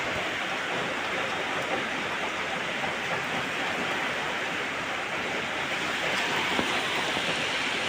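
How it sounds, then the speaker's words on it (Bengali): Heavy rain pouring down steadily in a monsoon setting near a muddy road, a dense continuous hiss with no breaks, close and loud, with no voices over it. "এখন বৃষ্টি পড়ছে অনেক অনেক বৃষ্টি পড়ছে"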